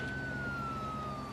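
An ambulance siren wails in one long, steady tone that drifts slowly lower, loud and continuous, alone with no voices over it.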